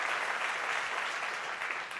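Audience applause fills a keynote-style event for the Chan Zuckerberg Initiative, a steady dense wash of clapping held at even loudness for its full length, close and full, with no talk over it.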